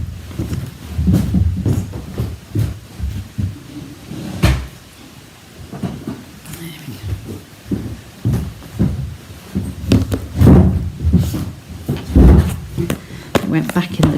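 Rummaging in a craft drawer for Stampin' Dimensionals, with repeated close knocks, slides and clatters of items being moved, loud and irregular, interleaved with someone talking.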